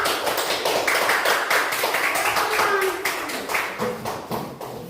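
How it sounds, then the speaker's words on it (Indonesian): A classroom full of pupils claps steadily and energetically for several seconds, close and continuous. "Ayo tepuk tangan untuk semua."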